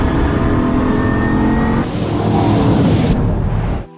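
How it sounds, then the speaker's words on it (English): A rocket-engine hypercar in Minecraft roars steadily with a loud, dense engine drone that shifts pitch midway, holds, then cuts off abruptly at the end. "And I even gave it a rocket engine."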